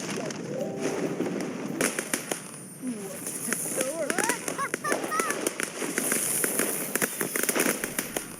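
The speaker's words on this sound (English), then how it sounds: "more fireworks" Fireworks in The Sims 4 crackle and pop in rapid, irregular bursts over a game soundtrack with chirping bird-like tones, while a voice talks over them throughout.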